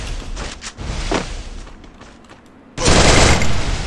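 Shotgun fire in the Free Fire Clash Squad mobile game, a burst of loud gunshots with a sharp, heavier blast near the end over a busy game background.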